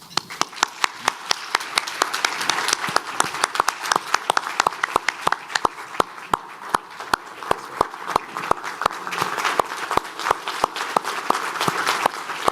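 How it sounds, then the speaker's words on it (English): Loud, sustained applause from a crowd, with sharp individual claps standing out throughout, steady and continuous. "Please join me in a big round of applause."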